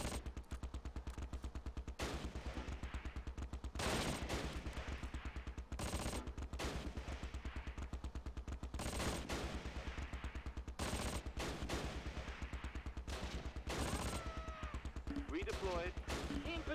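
MG34 machine gun fire in the World War II strategy game Close Combat Last Stand Arnhem, sustained rapid bursts with sharp louder volleys throughout, dense and close.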